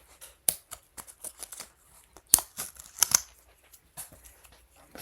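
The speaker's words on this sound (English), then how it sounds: "let's unwrap the cable." Close, crisp crinkling and rustling of plastic packaging being pulled off a keyboard cable, in irregular bursts with sharp crackles and quiet gaps between.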